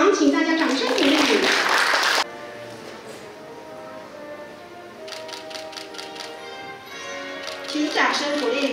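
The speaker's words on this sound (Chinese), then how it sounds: "恭喜校长，请大家掌声鼓励。" A crowd at a principals' handover ceremony claps briefly for the incoming principal, then an amplified voice speaks, and a second short round of applause rises at the end.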